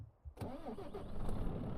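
A truck engine starts in the video game Euro Truck Simulator 2. It cranks briefly, catches, then settles into a steady, rumbling idle that grows slightly louder.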